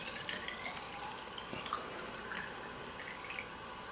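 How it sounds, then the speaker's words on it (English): Rum wash solution being poured into a fermenter, a light trickling and dripping of liquid with small splashes, close and steady for a few seconds without talk. "I'm going to take my solution here, and I'm going to pour it in here"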